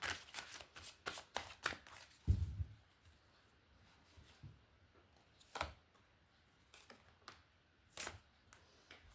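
A tarot card deck is riffled and shuffled up close in quick, crisp bursts of flicking cards, then a few sparser taps and shuffles, quiet and without talking.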